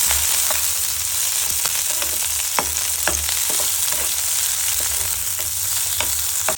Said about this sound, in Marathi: अर्धी अर्धी कट केलेली थोडीशी मिरची आणि टमाटा आणि कांदा कट केलेलं तेलामध्ये आपण परतून घेऊ